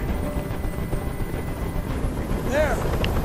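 A helicopter drones steadily in the hostage scene of the video game Detroit: Become Human, its rotor rumble continuous, with a brief voice near the end.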